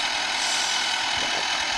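A tractor engine idles in the video game Farming Simulator 14, giving a steady, even mechanical drone that holds without change for a couple of seconds, with no other sounds.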